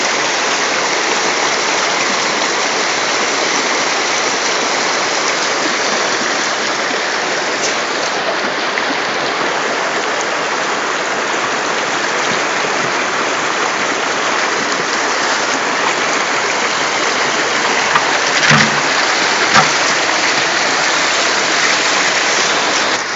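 River water runs steadily over stones at low water level, a dense, even rush that lasts throughout and stays close by, with no voices.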